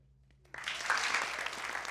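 An audience claps for a storyteller at a live StorySLAM show, the applause starting abruptly after a quiet moment and holding steady and full, a crowd-wide patter in a room.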